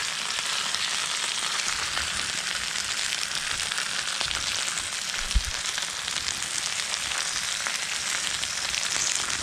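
Mayo-coated chicken wings sizzle on a George Foreman grill, a dense, steady crackling hiss that runs without pause, fairly close and even in loudness.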